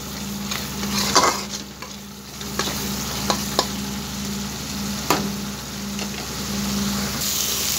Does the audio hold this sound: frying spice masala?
yes